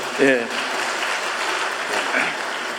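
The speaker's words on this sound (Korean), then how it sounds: "1등 같은 3등을 해서 박수 한번 보내주십시오" A church congregation claps for its futsal team after a third-place finish, a dense wash of steady applause running nearly three seconds, with a brief voice near the start.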